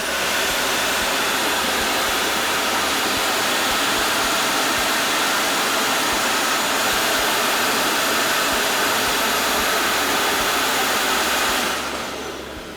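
Loud, steady broadband rush of airflow from an AEM V3 water methanol injection system under test, a constant roaring hiss holding for about twelve seconds before tapering off at the end, with no voices.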